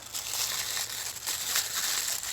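Crinkly plastic mail packaging rustles and crumples continuously up close as it is opened with tweezers, with sharper crackles scattered throughout.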